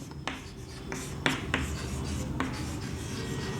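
Pen or marker writing a maths answer on a board or page, a soft continuous scratching with a few sharper taps from strokes, close and quiet with no talk.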